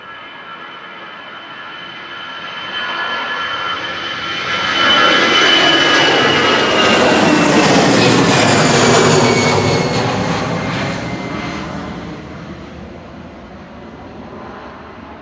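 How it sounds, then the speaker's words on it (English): A Lufthansa City airliner departs Manchester Airport, its jet engines swelling from a distant rumble to a loud roaring peak midway, then fading gradually as the plane moves away. "Lufthansa City departing to Munich now"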